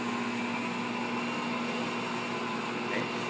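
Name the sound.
Assistent Original stand mixer kneading dough at higher speed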